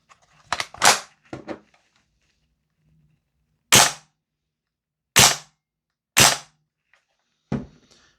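A VFC G36C V2 gas blowback airsoft rifle fires single semi-auto shots, each a sharp loud crack with a short gas hiss, spaced a second or more apart after a couple of quieter clicks and clacks.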